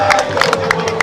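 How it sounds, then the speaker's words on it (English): A crowd at a local district football final cheers and claps for the referees, a loud, close burst of mixed voices with a few sharp claps in a short, dense moment. "Can you all give a round of applause to our referees,"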